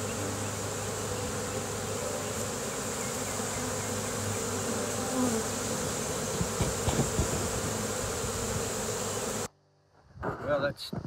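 A swarm of bees buzzes on a plum tree, forming a dense, steady drone of many wings for about nine seconds before it cuts off abruptly, followed by a few close rustles.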